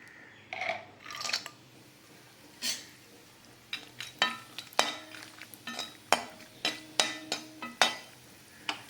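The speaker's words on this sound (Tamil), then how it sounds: "கொஞ்சமாக நெய் விட்டு நம்ம இந்த முந்திரி பருப்பை வறுத்து எடுத்துக்க வேண்டியதுதான்" Cashew nuts roasting in a little ghee in a pan, heard as a series of sharp scraping and clinking stirs against the metal over a faint low sizzle, irregular and close, with no talking.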